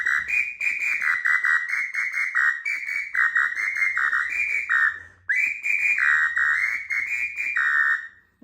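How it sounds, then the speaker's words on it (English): A Brazilian dual-chambered party flute with a small cork rattling inside gives loud, buzzy, warbling whistle tones, played in a long run of quick pulsing notes, then a brief pause and another run, with no voices. "It's a dual whistle, but it has also a little cork inside, so it vibrates and it produces a flatter tone"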